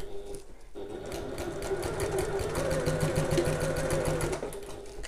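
Sewing machine basting the side seam of a messenger bag, a quiet, rapid mechanical stitching rattle that starts after a brief pause and runs steadily for a few seconds.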